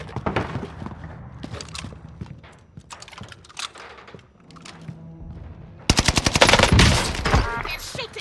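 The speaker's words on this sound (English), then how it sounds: "They're shooting at me." Enemy gunfire in the video game Warzone Pacific: scattered shots through the first seconds, then a loud, dense rapid burst of automatic fire near the end.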